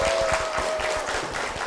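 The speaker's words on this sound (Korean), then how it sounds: "박선주 집사님 박수로 모시겠습니다." A brief burst of congregation applause in a church setting welcomes a deacon to the stage, steady clapping lasting under two seconds.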